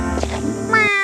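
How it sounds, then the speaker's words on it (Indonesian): A cat meows softly in one drawn-out, tonal mew that rises at the end and then stops, close and clear with nothing else around it. "kucing itu mengeong perlahan"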